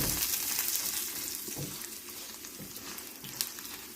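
Spinach chutney ingredients roast in hot oil over low heat until browning, giving a steady close sizzle with faint stirring scrapes throughout and no talk.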